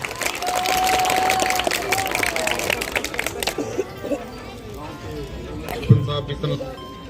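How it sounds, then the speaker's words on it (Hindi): An outdoor Republic Day gathering breaks into lively clapping that crackles for a few seconds and then thins out, giving way to a speaker talking over scattered claps and crowd murmur. "आदरणीय श्री प्रेम शंकर जी मीणा सर के लिए जोरदार तालियां बजाएं"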